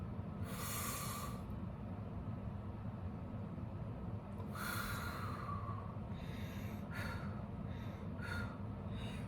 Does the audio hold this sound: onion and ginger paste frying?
no